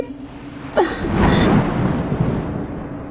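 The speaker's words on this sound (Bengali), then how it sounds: "কড়কড় শব্দে আবারও বাজ পড়ল" A sharp thunderclap cracks suddenly and rolls into a loud, sustained rumble that slowly fades, a stormy sound effect in a Bengali ghost story set at a haunted village house.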